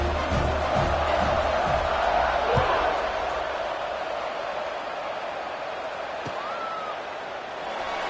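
A stadium crowd at an SDSU vs Stanford college football game roars in a broad, sustained wash of cheering that slowly eases, with a commentator talking over it.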